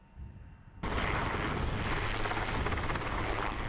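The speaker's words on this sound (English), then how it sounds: "A Texas Force Type 1 helicopter was busy most of the afternoon on Thursday." A Texas Force Type 1 firefighting helicopter flies over a wildfire in high winds, and its loud rotor roar cuts in abruptly and holds steady and close, with no voices.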